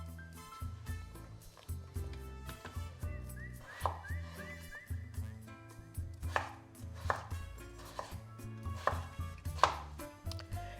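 Knife chopping potatoes diagonally into large pieces for briam, a Greek baked vegetable dish, with repeated sharp cutting knocks on a board over background music.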